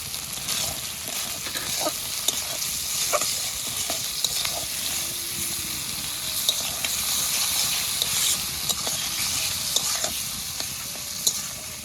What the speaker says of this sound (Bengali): মশলাগুলো একসঙ্গে ভালো করে ভেজে নিয়েছি